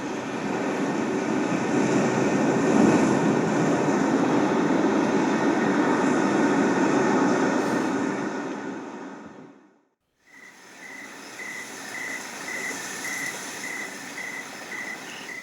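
Ocean soundscape recorded in Hawaii, played from a Sound+Sleep high fidelity sleep sound machine: a steady broadband wash like surf, dropping out to near silence briefly before resuming, no voices present.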